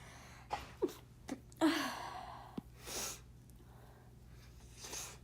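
A single person's sneeze during a quiet indoor drawing session, with a few sharp breaths and sniffs before a clear burst, close and alone in a quiet room.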